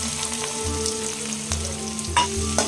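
Fresh pond prawns coated in salt and turmeric frying in hot oil with whole spice tempering, a steady close crackling sizzle with occasional stirring scrapes and clinks, no voices.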